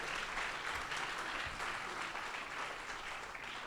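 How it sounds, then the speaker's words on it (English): Audience at an iOS developer conference in Singapore gives a steady round of applause, a dense, even patter of many hands heard at a distance and fairly quiet, continuing unbroken throughout. "So give another round of applause"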